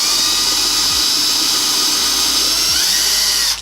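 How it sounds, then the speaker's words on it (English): A power drill whines steadily at high pitch for the whole stretch, a constant loud motor drone boring into material while installing a window screen. "drill your hole."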